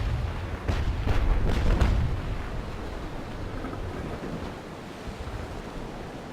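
Ship cannons firing at sea in the naval combat game Naval Action, a few heavy booming shots in the first two seconds over steady rolling wind and surf noise that carries on alone afterward.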